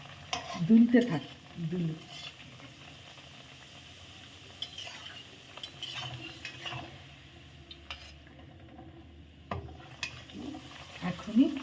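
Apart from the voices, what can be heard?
kochuri dough frying in hot oil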